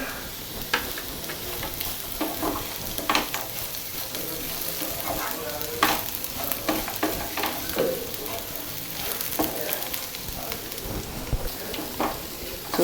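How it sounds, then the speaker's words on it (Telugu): Okra fry with groundnuts, salt and chili powder crackles in a pan with a dense, continuous sizzle, broken by scraping and tapping as it is stirred, close and fairly loud. "దీనికి తగినంత కారం చేర్చి కలుపుకోవాలి"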